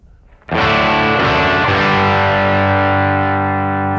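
A distorted electric guitar chord through an overdrive pedal pushing an already distorted amp rings out sharply, then sustains thick and loud with slight modulation, several more chords struck over it.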